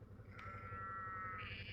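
A single sheep bleats nearby in a wavering, nasal call lasting about a second, over a faint steady outdoor background.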